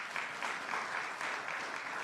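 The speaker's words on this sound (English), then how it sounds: "You can give her a round of applause." Audience applause at New Jersey Governor Phil Murphy's event on the fiscal year 2023 budget, a steady, even patter of many hands clapping, heard from a distance at moderate level.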